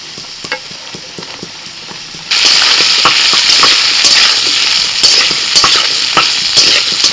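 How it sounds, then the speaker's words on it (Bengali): Ridge gourd and pumpkin go into oil with frying potatoes: a quieter sizzle and light clatter jump to a loud, dense, steady hiss once the vegetables drop in, with scattered stirring clicks and no talking. "কুমড়ো আর ঝিঙেটা একটু ভাজা ভাজা করে এবার আমি দিয়ে দিচ্ছি বেগুন।"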